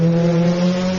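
A Subaru rally car takes a right-hand turn on a forest stage, Lewana, at the 2026 ARC Plant Hire Forest Rally. Its engine gives a loud, steady, close-up note that is held through the bend with no talk.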